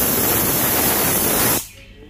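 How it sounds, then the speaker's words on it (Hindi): A kitchen pressure cooker releasing steam, a loud broad hiss lasting about a second and a half that cuts off abruptly, leaving a quiet room. "अब कुकर में सीटी अच्छे से लग चुका था जैसा कि आप सबने देखा"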